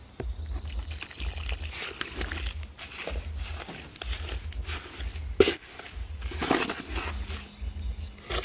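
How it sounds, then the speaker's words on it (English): Water poured into a hypertufa cement mix outdoors on a warm day, a steady trickling splash running throughout alongside a low rhythmic rumble. "put your water in."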